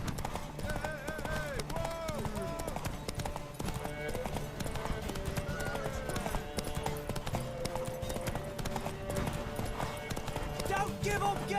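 Galloping horse hooves pound in a quick, steady clip-clop from The Witcher 3: Wild Hunt, with urgent voices calling out over the rhythm.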